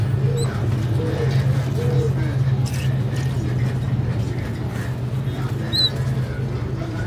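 Pigeons and day-old squabs during hand feeding, with soft cooing and faint squeaky chirps over a steady low hum, close by, with bits of talk.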